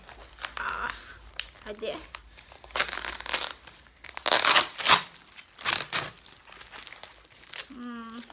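Cardboard book shipping package being torn and opened, crinkling and ripping in several loud bursts, with someone talking in between.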